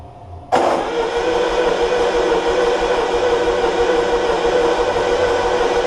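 A Cummins 4BT diesel engine cranks and catches after a short quiet moment, then settles into a loud, steady close-range idle with no talking.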